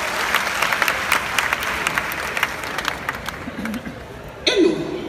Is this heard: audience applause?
yes